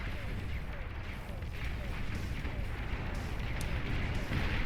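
Gunships attacking Mammoth units in the strategy game Beyond All Reason, a steady dense rumble of distant explosions and weapon fire running under a caster's continuous commentary.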